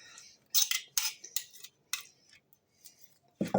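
Spoon scraping and tapping against a glass baking dish while béchamel is spread over minced-meat lasagna: a handful of short, crisp clinks and scrapes in irregular rhythm, close and quiet, with no talk.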